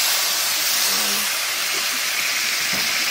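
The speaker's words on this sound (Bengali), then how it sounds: "আমি জল দিয়ে দিচ্ছি।" Water poured into a hot pan of spices (dried cumin, chili, salt and turmeric) gives a loud, steady, broadband hiss of steam and sizzle that holds evenly throughout.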